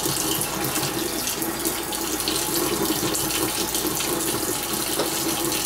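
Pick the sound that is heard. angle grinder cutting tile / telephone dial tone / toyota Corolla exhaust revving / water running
water running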